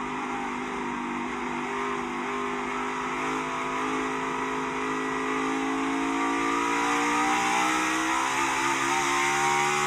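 A NASCAR race car runs through the carousel turn, its engine a loud, sustained drone whose pitch rises and falls as it works through the corner, with no break in the sound.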